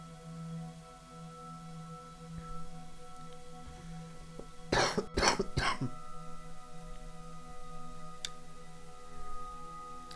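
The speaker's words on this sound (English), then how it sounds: "sorry if I keep coughing every now and then" A man's coughing, a quick cluster of three or four harsh coughs near the middle, fairly close, set against a quiet room with a faint ticking in the background.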